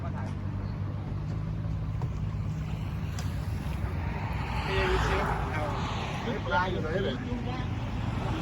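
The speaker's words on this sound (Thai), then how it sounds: "มาแล้วครับเรือของพวกเราครับ" Out on flood water, a boat draws closer with a low rumbling engine drone and wind buffeting the microphone, swelling slightly midway, while someone talks over it.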